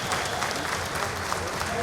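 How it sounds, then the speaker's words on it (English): A crowd claps in steady applause at a Karate Combat event, filling the arena with continuous even clapping while a commentator talks over it. "Round of applause from the crowd here as these two show respect for one another"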